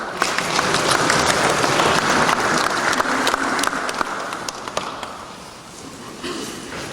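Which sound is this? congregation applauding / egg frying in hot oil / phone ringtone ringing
congregation applauding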